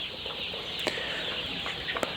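Young cock chickens, about 35 days old, cluck softly on a poultry farm, with a few sharp clucks and brief wing flaps over a quiet steady background.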